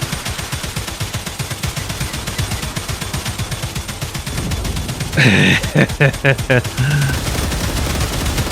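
Rapid automatic gunfire in the video game StarRupture rattles steadily as creatures are shot, then gives way to a few sharper, louder bursts with a voice talking over the shooting.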